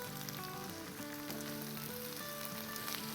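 Onions sizzle steadily in a pan with garlic and ginger paste, a soft, even frying hiss at moderate distance, unbroken and without talk.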